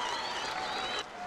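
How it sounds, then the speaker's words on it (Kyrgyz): An outdoor crowd at a traditional hunting-bird and hound event applauds in a dense, even burst of clapping that cuts off abruptly near the end, with a tonal whine beneath. "Кол чаап коюңуздар, Арбай Булан"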